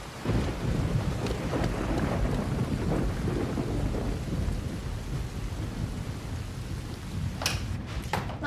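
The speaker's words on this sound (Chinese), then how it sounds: "这点小雨我平时都不打伞" Light rain falling at night with a thunderstorm, a steady broadband patter of drops and low rumbles of thunder, moderately loud, with a brief sharper noise near the end.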